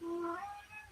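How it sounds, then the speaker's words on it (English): A female cat meows close by indoors, a single short rising-and-falling call of about half a second that fades into quiet room tone, with no talking. "I don't know if you can hear her meowing"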